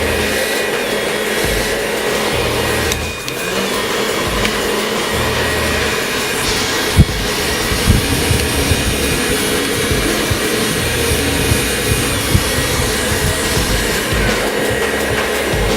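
A hair dryer blows air onto hair during a clipper-over-comb haircut, a steady, loud, unbroken rush of airflow lasting throughout with no talking.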